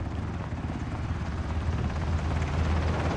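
Steady, loud rotor thrum of a helicopter arriving in the video game Ring of Elysium, with a low pulsing drone that swells slightly, continuous throughout with no voices.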